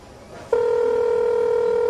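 A single sustained electronic telephone tone, loud and close, holds steadily for about a second and a half after a brief quiet moment.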